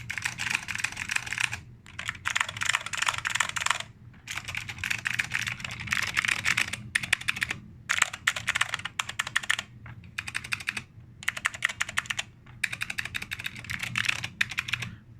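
Steady typing on an Alps mechanical keyboard, close and crisp, in quick bursts with short pauses between runs of clattering keystrokes.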